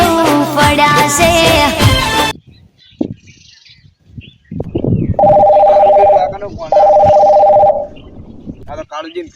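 A telephone rings in a Gujarati comedy drama: two sustained electronic ring bursts, each about a second long with a short gap between, come in after a stretch of music and some soft sounds.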